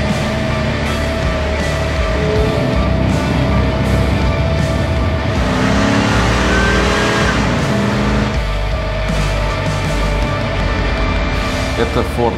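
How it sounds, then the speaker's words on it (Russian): A 1968 Ford Galaxie LTD's 427 big-block V8 roars continuously up close, its pitch rising and falling as it revs, with a faint voice mixed in. "В нем стоит 427 двигатель Big Block."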